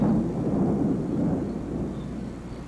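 Deep thunder rolls from an approaching storm, a loud low rumble that fades slowly over a few seconds with no talk.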